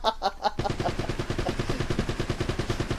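Rapid, muffled gunfire hitting the player in Uncharted, a steady stream of close shots and thumps preceded by a brief burst of sharp higher-pitched sounds.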